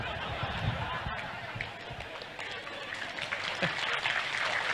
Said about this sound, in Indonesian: mereka tepuk tangan semua.